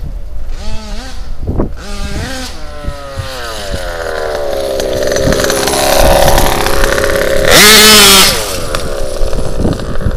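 The gas engine of an HPI Baja RC car, flooded with too much fuel, runs rough up close, revving unevenly with wavering pitch swoops, stumbles and a loud burst of throttle near the end.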